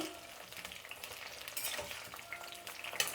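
Brinjal (eggplant) frying in a pan while being stirred, with quiet crackling sizzle and intermittent scraping strokes across a few seconds.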